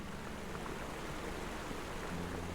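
Rushing waterfall in the video game Taiji, a faint, steady broadband hiss of falling water with no pauses, alone without talk.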